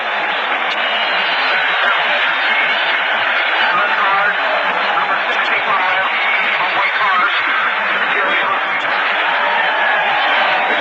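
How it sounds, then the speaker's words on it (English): Stadium crowd at the 1960 NFL Championship game between the Philadelphia Eagles and Green Bay Packers in Philadelphia, a steady loud roar through the whole stretch, heard over an old radio-style broadcast. "Big cheer goes up for him."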